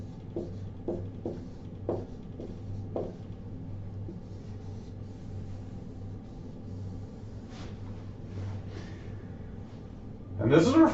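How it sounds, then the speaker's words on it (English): Someone writes on a board during a calculus lecture on integration by parts. A quick series of short, faint strokes comes in the first few seconds, followed by quieter shuffling and a louder scrape near the end. "I'm going to write it like this."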